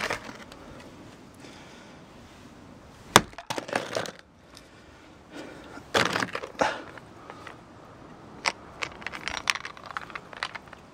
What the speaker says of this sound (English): Let me give this a serious whack.